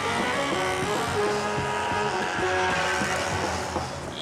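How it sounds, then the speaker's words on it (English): Dense city traffic in Cotonou, Benin, roars continuously with thousands of small motorbikes, their overlapping engine buzzes and rising revs filling the street loudly from near and far. "the deafening noise of thousands of small motorbikes throughout the city."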